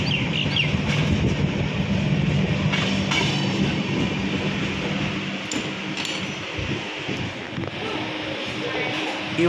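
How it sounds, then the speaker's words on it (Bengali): The 15777 Vista Dome tourist special rolls through the Dooars after leaving New Mal Junction, a loud, steady rumble with rattling carriages and occasional clacks and squeals heard from onboard. "মিনিট 4 দাঁড়িয়ে নিউ মাইল জাংশন থেকে ট্রেনটি ছাড়লো 9:24।"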